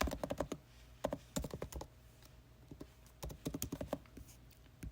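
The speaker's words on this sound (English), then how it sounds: "So now your spouse is going to enter their username" Keys clatter on a computer keyboard as a username is entered at a sign-in screen, coming in three quick bursts of close, crisp taps separated by short pauses, with no voices.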